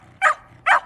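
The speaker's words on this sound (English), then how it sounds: "Are you barking at sheep?" A dog gives two short, sharp barks about half a second apart, close by in a hillside garden, with quiet background between them.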